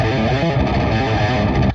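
A crunchy, distorted electric guitar on a metal guitar tone rings out with dense, gritty overdrive, played steadily at close range before cutting off abruptly.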